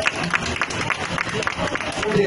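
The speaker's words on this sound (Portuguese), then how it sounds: "Mais uma salva de palmas para ela," Audience members applaud a participant on a bazaar-style TV programme, a short run of moderate, steady clapping mixed with crowd murmur.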